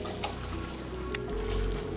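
Homemade chicken stock is poured through a strainer in a kitchen, giving a close, continuous trickle and splash of liquid with a couple of sharp clinks.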